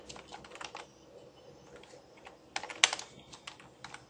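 Computer keyboard keys clatter in two short bursts of typing as PHP and MySQL code for inserting data into a database is written, close and clear against a quiet room with no speech.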